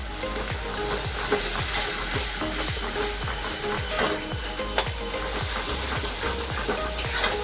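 Spice masala with turmeric and red chilli powder stir-fries in hot oil, a steady loud sizzle broken by a regular rhythm of spatula scrapes against the pan, with no voices.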